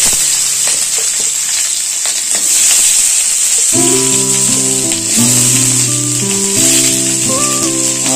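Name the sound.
whole spices sizzling in hot oil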